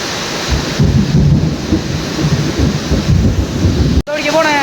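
Heavy monsoon rain pours down in Mullasery, Thrissur, with thunder rumbling low beneath a dense, steady roar of rainfall, loud and close, before a sudden cut near the end.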